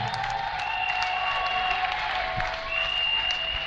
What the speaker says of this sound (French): acclame encore très fort pour le Seigneur Jésus